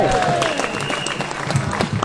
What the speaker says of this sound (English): Round of applause for Lindsay German.